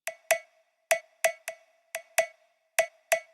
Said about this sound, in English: And then a cowbell.